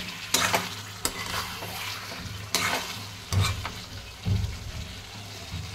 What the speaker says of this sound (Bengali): দেখুন আলুগুলো আমি মাখিয়ে নিয়েছি